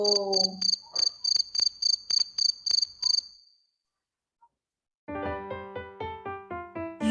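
A cricket chirps in a fast, regular train of short, high-pitched pulses that stops abruptly, heard alone before a tonal sound begins.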